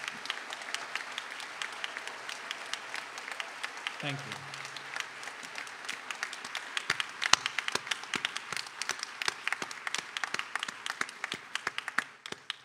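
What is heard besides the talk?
audience applause for professors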